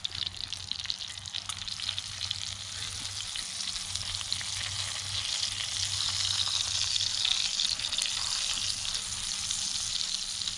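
Steak sizzles loudly in a cast iron skillet over an open fire after being flipped, a dense continuous hiss and crackle that holds steady and swells slightly for about ten seconds with no talking.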